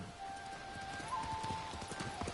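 Horse hooves clip-clopping at a steady rhythm in the game Ghost of Tsushima, close and continuous over a faint tonal game score.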